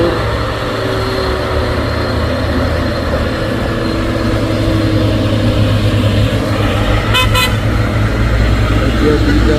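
A tanker truck and a vegetable truck rumble along a road with heavy low engine drone, close and loud, and a short burst of horn toots near the end.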